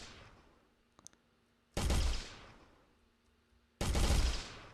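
Two loud bursts of rapid enemy gunfire from a video game, each lasting about a second and a half with a quick sharp onset, separated by near silence with a faint click in between.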